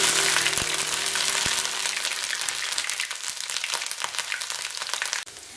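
Chopped ginger sizzles in hot oil with mustard seeds for a garlic pickle, a dense continuous frying hiss, loudest at the start and easing slightly, with a few faint clinks and no talking.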